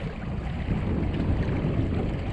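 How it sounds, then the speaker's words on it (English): Steady roaring wind noise buffets the microphone aboard a Hobie Wave sailboat, with low rumbling north wind gusts swelling slightly midway; no voices. "Get some good wind gusts from the north."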